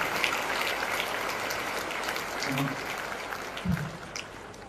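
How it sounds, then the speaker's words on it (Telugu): An audience gives a girl a round of applause, a dense, steady wash of many hands clapping that holds at a fairly even level throughout, with a faint voice briefly surfacing partway through. "సరే, ఆ అమ్మాయికి మరొకసారి గట్టి క్లాప్స్ కొట్టండి"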